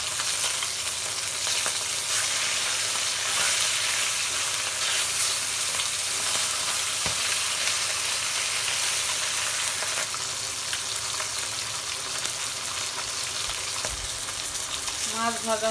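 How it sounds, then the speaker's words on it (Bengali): Fish frying in hot oil in a wok, giving a loud, steady, continuous sizzle and crackle throughout, with no voices over it. "মাছগুলো এবার আমি উল্টাই দিব"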